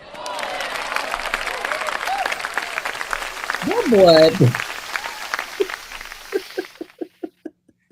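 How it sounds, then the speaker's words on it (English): Applause and scattered cheers from an audience, with a few voices speaking and laughing over it, ending in several isolated claps. "Round of applause."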